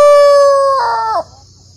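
A rooster crows once, a loud, close, sustained call with a rising middle and a falling tail, alone on a farm.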